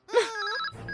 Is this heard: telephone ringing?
yes